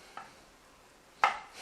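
Mushrooms being torn apart by hand, two short soft ripping sounds, a faint one and then a louder, closer one, in a quiet kitchen.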